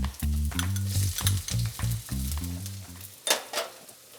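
Minced garlic and ginger sizzle and get stirred fast in a hot pan for chili crisp beef lo mein, with rhythmic spatula scrapes over loud frying, then a sharper clatter near the end.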